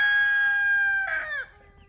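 A backyard chicken gives a clear crow that holds steady and then bends downward into a short, trailing cluck, heard close during morning feeding of farm animals.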